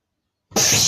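A person mimics a sneeze with their voice: sudden silence broken by a loud, breathy, spraying burst of air close up.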